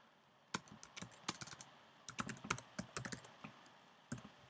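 Quick, light clicks of fingers typing a web address on a computer keyboard, close and quiet, in irregular bursts of keystrokes separated by short pauses.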